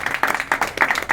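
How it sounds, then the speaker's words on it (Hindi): A group claps during an electricity department staff meeting, a quick run of uneven, close hand claps rising and falling in bursts, briefly and fairly loud. "तालियां"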